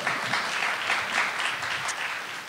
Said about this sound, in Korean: 우리 이분들을 위해서 한번 박수 한번 쳐드릴까요?